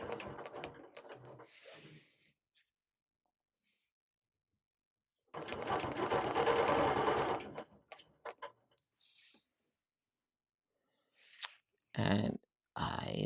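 A sewing machine stitching along quilting rulers, running in one steady sustained burst with several short stop-start runs, faint clicks and quiet handling sounds before and after.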